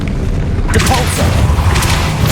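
A loud, booming Depulso spell impact from the Hogwarts Legacy video game, a heavy blast-like thump with a burst of crackling, beneath spoken game sounds.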